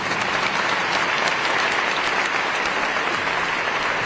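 A White House audience at a meeting applauds in a dense, sustained burst of clapping that fills the room evenly, with no voices over it.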